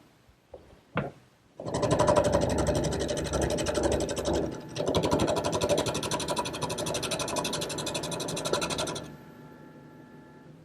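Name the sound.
wood lathe turning a long thin chair blank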